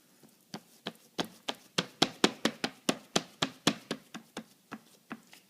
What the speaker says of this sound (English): just flatten it out with your hand